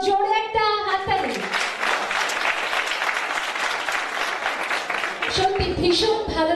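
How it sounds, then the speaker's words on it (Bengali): A crowd claps loudly and steadily for the faculty at a university fashion show, a dense, continuous burst of applause, with a voice speaking over it at the start and end. "আমাদের সকল অনারেবল ফ্যাকাল্টিজের জন্য জোরে একটা হাততালি।"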